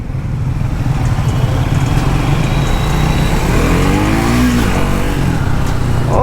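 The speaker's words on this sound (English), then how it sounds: "first start of the Triumph 400 speed" Triumph Speed 400 motorcycle engine running in busy city traffic, a loud continuous rumble with a rev rising and falling partway through, heard close by without talking.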